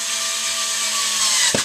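A power driver whirs steadily while tightening down the screws of a pet flap, a close, high-pitched motor whine running without pause, ending with a brief clunk.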